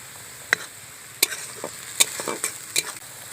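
Onion paste fries in a pan for chicken rezala under a low, constant sizzle, punctuated by about five sharp spatula scrapes and clacks against the metal at uneven intervals.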